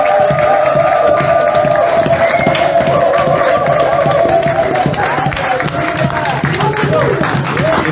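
A church congregation cheers and claps to acclaim God, a loud, dense crowd roar with scattered clapping and voices shouting, plus a sustained tonal cry running through much of it.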